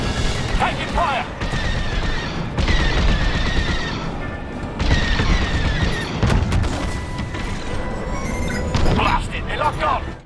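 Starfighter blaster fire and explosions in the space combat game Star Wars: Squadrons, with loud sustained bursts of cannon fire and impacts under repeated stretches of speech.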